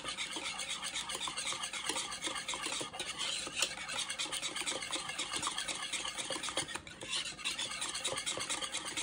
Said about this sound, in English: I'm gonna put a little bit more milk in here so we can get a little more stir going on.